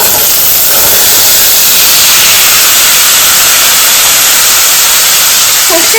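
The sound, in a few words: mustard seeds spluttering in hot oil under a lid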